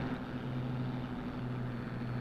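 A P-40 fighter's engine in IL-2 Sturmovik 1946 hums steadily while the plane flies through a cloud, a continuous, even, low drone heard alone and close throughout.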